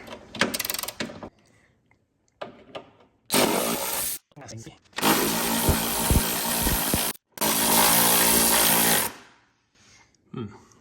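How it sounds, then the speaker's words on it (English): Breaker bar loosening 15 mm bolts on the back of a Porsche Boxster 986 engine during engine removal: several loud bursts of ratcheting and metallic effort noise, separated by short pauses, with a little talk between them. "All right, again with the breaker bar."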